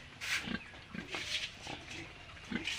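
Pigs on a small pig farm in Assam give several short, faint grunts and snorts at irregular intervals, fairly quiet against low background noise, with no talking.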